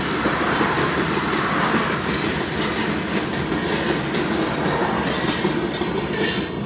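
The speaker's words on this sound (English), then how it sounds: "Oh my goodness, the train doesn't end." A CSX freight train rolls past close by at a railroad crossing, a continuous rumble with rhythmic clattering of wheels and occasional metallic squeals, sustained without a break.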